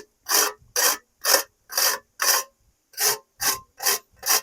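Fresh nutmeg scraped across a sharp grater in nine quick, even strokes, each a close, crisp rasp separated by brief silences, with a short pause midway.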